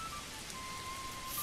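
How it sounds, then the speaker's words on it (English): Steady rain pours down on a foggy late summer day in the medieval city-building game Manor Lords, a constant soft hiss with no voices over it. "the rain pours down"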